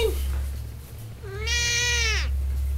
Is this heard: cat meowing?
yes